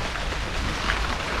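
Steady rain hisses evenly, a dense wash of drops with no voices or other sounds over it.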